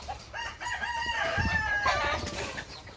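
Chickens and roosters in a farm coop raise a loud, close racket, with a rooster's drawn-out crow over overlapping clucks that continue throughout.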